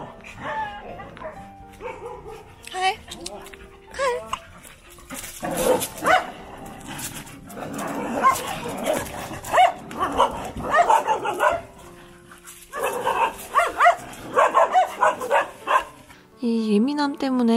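A wary Jindo dog barks repeatedly at something unfamiliar, sharp close barks in irregular bursts mixed with yips and whimpers, with a voice talking between them.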